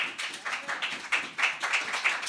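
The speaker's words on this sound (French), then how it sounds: "Est-ce que nous pouvons applaudir cette parole?" A church congregation claps in a short burst of distinct, rhythmic hand claps, close and clear, with no talking.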